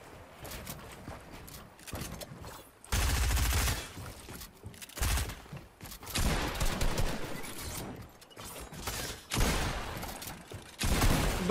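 Gunfire in the video game Fortnite, with bursts of rapid shots arriving in separate clusters and quiet gaps between them, fairly faint overall and with no talk.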